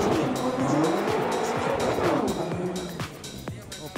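A BMW M6 F12 convertible spins its tyres to warm them in a burnout at a drag race, with a loud, continuous tire squeal over a roaring engine that eases slightly toward the end.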